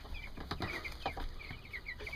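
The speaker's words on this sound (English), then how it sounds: "We got 50 meat birds in the little coop here." About fifty meat chickens in a small farm coop cluck and chatter in short repeated calls, several birds overlapping at close range with no talking.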